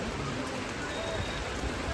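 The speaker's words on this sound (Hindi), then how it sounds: "उस दिन बहुत बारिश हो रहा था" Heavy rain pours down at a Lord Shiva temple in Goilkera, Jharkhand, a dense, steady hiss of falling water filling the short stretch at close range with no break.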